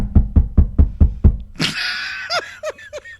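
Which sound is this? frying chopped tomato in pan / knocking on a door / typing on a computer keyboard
knocking on a door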